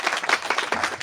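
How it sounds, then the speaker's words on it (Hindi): An audience at a welcome ceremony, where guests are honoured with turbans, breaks into a brief, close burst of quick hand clapping. "तालियां तालियां तालियां"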